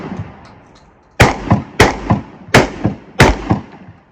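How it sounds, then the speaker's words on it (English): An SDS AR-12 12-gauge semi-auto shotgun fires four loud, sharp blasts outdoors at a steady pace, each followed by a quick echo off the surroundings, with soft ambient noise before the first shot. "We got John here trying out his SDS AR-12"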